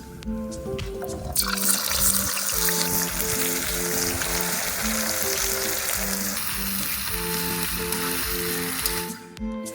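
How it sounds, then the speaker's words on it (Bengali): Sliced onions frying in hot oil to make crisp fried onions for Hyderabadi chicken dum biryani, a loud, dense, continuous sizzle close by that fades out at the end, with no talking. "তেল গরম হয়ে গেছে, বেরেস্তা ভেজে নেওয়ার জন্য পেঁয়াজগুলো তেলে দিয়ে দিচ্ছি।"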